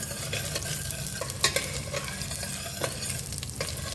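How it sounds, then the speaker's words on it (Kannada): Chana dal and urad dal fry with mustard seeds in a pan, giving a steady close sizzle broken by repeated scraping stirs and small clicks, with no voices. "ಕಡಲೆಬೇಳೆ, ಉದ್ದಿನಬೇಳೆ. ಇದನ್ನು ಫ್ರೈ ಮಾಡ್ಕೊತಾ ಇದ್ದೀನಿ."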